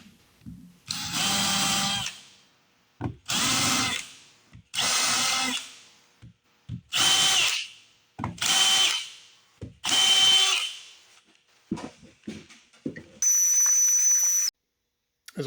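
A power drill bores holes through a boat deck for an anchor roller installation, roughly eight separate loud whining bursts of one to two seconds each, close up, with short pauses between them and no talking.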